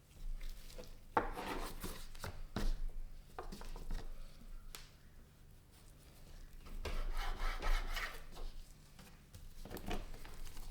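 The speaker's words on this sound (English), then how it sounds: "Now we're going to trim off any excess flaps of pork and we're going to save them for later." Knife trimming excess flaps off raw pork ribs, with soft rasping cuts and scraping strokes in irregular bursts, close and quiet.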